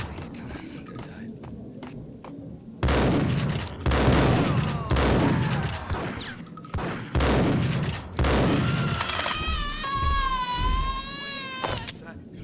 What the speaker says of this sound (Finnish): Ammuin sitä vahingossa, se alkoi ampumaan meikäläistä.